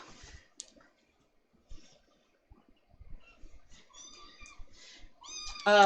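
A new kitten's meows rise near the end of a quiet indoor stretch, a few soft mews building to a louder, closer cry, with scattered clicks and handling noises before it.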